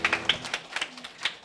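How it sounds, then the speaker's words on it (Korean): A church congregation claps in encouragement after a children's choir performance at a music worship service. The applause is light and fairly close, with a sparse scattering of separate claps that stays fairly quiet throughout. "서로 격려의 박수 하겠습니다"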